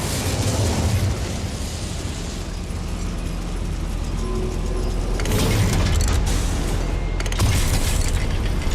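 Incendio fire spell explosion in Hogwarts Legacy, set in a goblin mine, a loud sustained rumbling blast with fresh bursts flaring up twice late on over continuous low roar.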